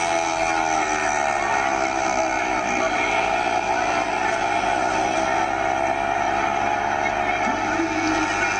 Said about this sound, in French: Lancés à fond, certains de ces engins de 50 cm3 dépassent les 100 km/h